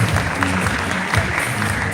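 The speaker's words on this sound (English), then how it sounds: "Give our dear candidates a big round of applause one more time" An audience at a Miss Asia Pacific International pageant event in Manila claps for the candidates, dense and steady applause held at full strength throughout.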